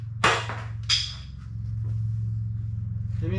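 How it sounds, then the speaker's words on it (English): Two sharp metallic hammer knocks on bolts under a 2000 Camaro during an LS swap, close and loud, over a steady low engine-bay hum with a faint scrape near the end. "I'll take a hammer or something to pop them loose away."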